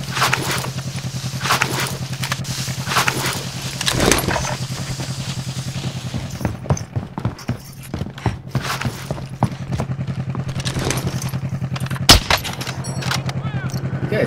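Gunfire crackles in a shooting video game at a military base, with repeated sharp bursts and single shots, some near and loud, others fainter, over a steady hum, while players talk now and then.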